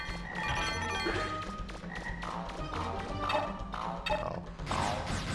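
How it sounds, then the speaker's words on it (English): Frog enemies with flames on top croaking in Mega Man Legends 2, repeated short warbling croaks coming one after another over a low steady game hum, fairly loud and close. "Frogs with flames on top."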